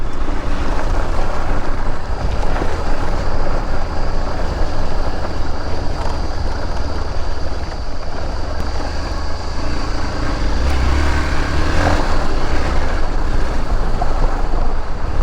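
A motorbike with slightly underinflated tyres is ridden along a road, heard as a loud, constant rush of wind buffeting the microphone over a low rumble for the whole stretch, with no talking.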